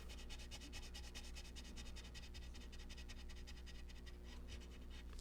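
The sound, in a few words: burnishing a coloured-pencil drawing with a white pencil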